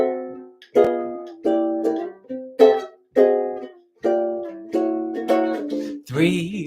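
Ukulele plays a song as a series of strummed chords, each ringing and fading before the next, close and fairly quiet with no voices.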